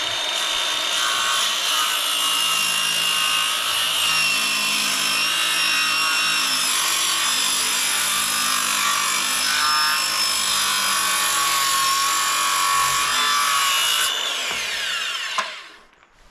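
A power saw cuts through the end of an old cedar door, a loud continuous whining rasp of blade in wood that holds steady for about fourteen seconds before winding down and stopping.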